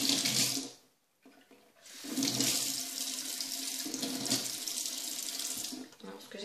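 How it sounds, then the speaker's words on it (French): A bathroom tap runs steadily while someone rinses their mouth, the hiss of water briefly stopping after a second and then flowing on, close and fairly quiet. "je vais me rincer la bouche"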